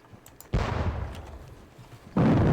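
Artillery fire in the Battle of Bautzen war game: two loud booming blasts, the first followed by a long rumbling decay, the second cut off abruptly, heard close with no voices.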